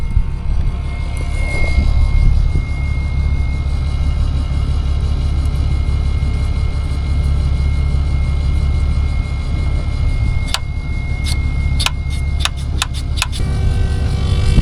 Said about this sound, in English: see if we can't get this truck running now.